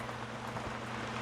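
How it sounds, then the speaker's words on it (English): Rain pours down outdoors, a steady, dense hiss of falling drops with a low hum underneath throughout. "Oh shit, it's really coming down."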